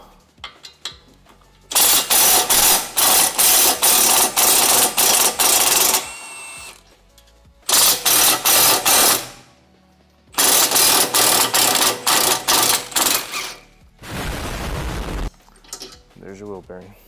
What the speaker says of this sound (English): hence why I'm using the impact gun